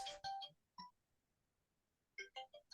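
A mobile phone ringtone chimes in short melodic bursts, first at the start and again after a pause of more than a second, moderately clear against a quiet room.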